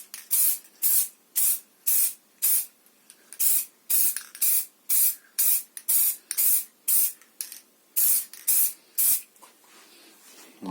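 Spray can bursts laying a second coat of paint on a guitar headstock, about twenty short, loud hissing sprays in a steady rhythm with brief pauses between each, alone without talk.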